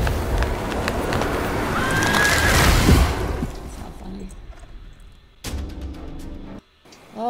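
A horse in the fantasy multiplayer video game Chronicles of Magic: Divided Kingdoms gives a loud whinny, with hoofbeats and bursts of game effects around it.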